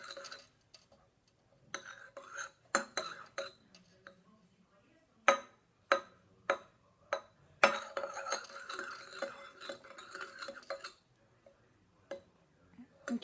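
Spoon clinking sharply against a glass while stirring homemade fake blood made with honey and strawberry, a string of irregular bright taps with quiet gaps between them.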